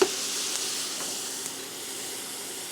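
Onions sizzle steadily in a frying pan, a constant soft hiss of frying with a faint tap or two of a utensil near the start, no voices.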